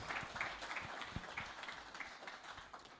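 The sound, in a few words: round of applause from forum audience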